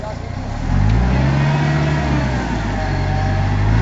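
A Jeep Cherokee is stuck in forest mud, its engine revving hard with a sustained, strained drone that swells after the first second and holds steady under load.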